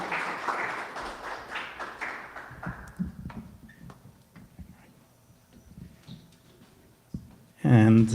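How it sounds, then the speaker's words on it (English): A conference audience claps for a presenter at a marketing event. The dense applause fills the first few seconds and thins out into scattered claps and quieter room noise, followed by a brief loud burst at the end. "Carlos a round of applause."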